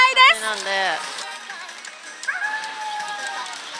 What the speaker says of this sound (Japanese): 狼吠えてんの。